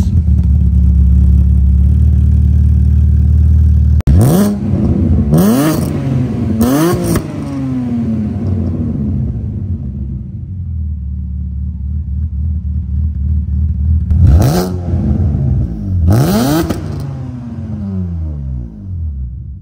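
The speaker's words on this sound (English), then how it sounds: "So, nice engine sound." A 2006 Alfa Romeo GT 3.2 V6 with upgraded exhaust and headers idles low, then blips its throttle in sharp revs, a cluster of three early and two more later, each rising and falling with a throaty rasp.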